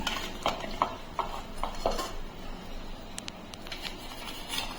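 Egg pulao made from leftover cooked rice is served from the pot, a metal spoon scraping and clinking against the vessel in several short, irregular strokes, close and moderately quiet.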